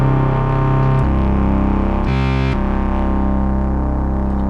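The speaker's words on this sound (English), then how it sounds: "So we'll get a couple square waves going" A thick, buzzy Moog Sub Phatty analog synth bass of two square waves drones continuously, holding one low note, briefly jumping to another pitch midway before returning, with a slight wavering chorus-like shimmer.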